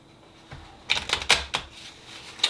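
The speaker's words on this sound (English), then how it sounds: "so we shuffle the cards." Trading cards from a Marvel Universe card game being shuffled by hand: a few quick, crisp riffling bursts close up, separated by brief pauses, with no talking.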